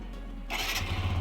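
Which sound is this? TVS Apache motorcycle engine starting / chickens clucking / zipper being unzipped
TVS Apache motorcycle engine starting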